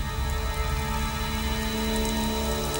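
Steady rain pours down, a dense even hiss of drops on surfaces filling the scene without pause, no voices.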